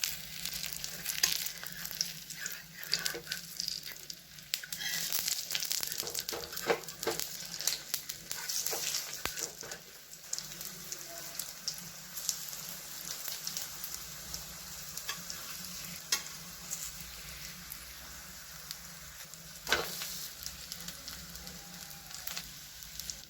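Alu vadi pieces shallow-frying in a little oil on a pan, giving a steady close sizzle with crackle and occasional stirring or turning clinks throughout.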